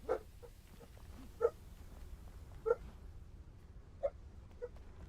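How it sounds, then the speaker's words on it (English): A dog barks in single sharp yips, about five spaced a second or so apart, moderately distant over a low background rumble. "You guys hear the barking."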